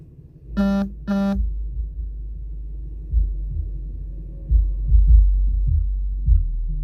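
Heavy bass from a car audio subwoofer, with the bass knob turned up, throbbing low and loud in uneven pulses as a song plays, after two short electronic tones near the start.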